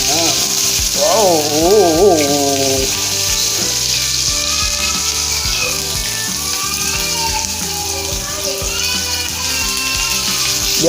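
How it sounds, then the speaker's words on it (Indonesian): Onions frying in hot oil, a loud steady sizzle filling the whole stretch, with a short bleating sound near the start and faint voices in the background. "Kita goreng dulu bawangnya."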